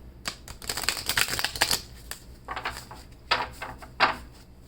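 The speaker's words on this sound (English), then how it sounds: "when I do the numerology cards, I just like to shuffle them up" Oracle cards, fairly new and a little sticky, shuffled by hand in quick riffling bursts, crisp papery flutters and taps, close up, with short pauses between rounds.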